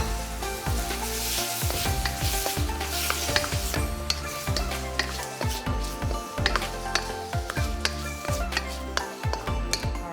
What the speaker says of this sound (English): pop in the prawns. So I've just chopped up some of the prawns here. And again, this is gonna cook off very fast.